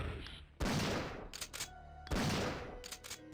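Enemy gunfire in Resident Evil 3 Nemesis, with two loud, sharp shots about a second and a half apart, each followed by a brief ringing tail and fainter echoing pops.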